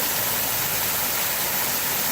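Elk River Falls in North Carolina pours in a loud, unbroken roar of falling water, a dense steady rush with no pauses or voices.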